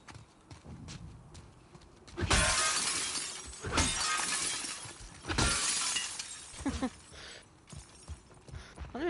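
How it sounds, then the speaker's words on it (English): Repeated loud shatters of glass being broken in The Last of Us Part II, several crashing bursts spaced a second or two apart over a low game ambience. "I'm just like breaking glass."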